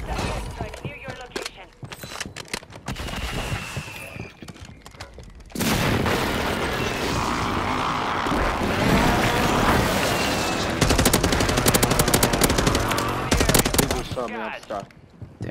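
Call of Duty Rebirth Island firefight with rapid machine-gun bursts, single shots and booming impacts, loud and nearly continuous across the stretch, while a player's voice is heard over the shooting.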